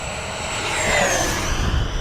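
An E-flite Viper 90mm electric ducted-fan RC jet flies fast past the field. It makes a loud, continuous whine-and-roar that swells and shifts pitch as it passes, with no voices.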